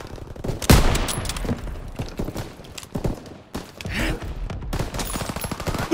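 Gunfire in the World War II shooter Call of Duty WWII: loud, dense rifle and machine-gun bursts crackling repeatedly with a sharp shot near the start, amid battle noise.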